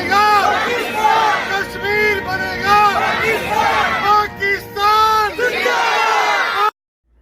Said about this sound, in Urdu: لوگوں نے پاکستان زندہ باد اور کشمیر بنے گا پاکستان کے بھرپور نعرے